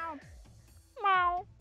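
A voice imitates a cat's meow, producing two drawn-out, wavering meow calls: a short one at the start and a louder, longer one near the end.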